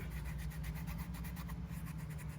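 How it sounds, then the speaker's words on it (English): Wet leather edges of a knife sheath being burnished, a soft steady rubbing friction with rhythmic back-and-forth strokes, quiet and close. "while it's wet, I'm going to use that time to burnish my edges a little bit"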